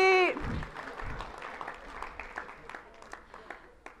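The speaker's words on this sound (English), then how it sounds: "Give yourself a round of applause and have a seat." An audience at a speaker event claps steadily for about four seconds, starting with a loud burst over a brief voice and then settling into a moderate, even patter of many hands.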